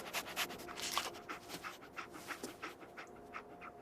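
Dogmeat, the companion dog in Fallout 4, pants in quick, steady breaths close by, with a faint whimper, against quiet game ambience.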